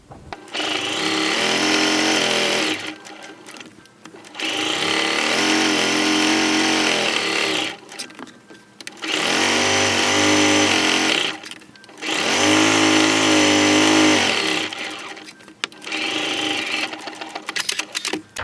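A sewing machine runs a quarter-inch seam around the edge of a placemat in four long, steady bursts of loud, close whirring stitches, separated by brief pauses, with no talking.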